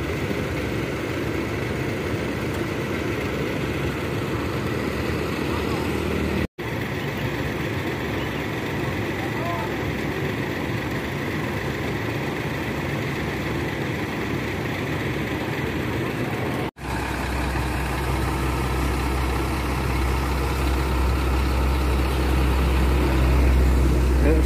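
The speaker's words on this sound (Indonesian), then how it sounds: "sopir mengecek kondisi mesin" A Laksmi Langgeng bus engine idles in a low, steady drone that continues throughout with only two brief cuts, and voices talk faintly over it.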